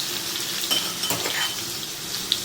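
Cumin, asafoetida and a garlic, ginger and green chilli paste fry in hot oil with a steady close sizzle, broken by a few light clinks of a utensil against the pan.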